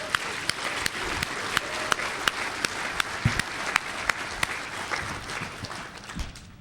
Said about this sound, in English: I want y'all to give Doodle a big old round of applause.